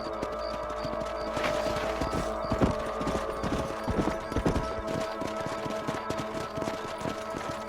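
Horse hooves in Red Dead Redemption 2, clip-clopping steadily as a rider moves across a ranch property, with irregular thuds and a faint background hum and no talk.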